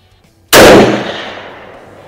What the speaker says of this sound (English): We'll go ahead and see if we can hit anything at 200 yards here.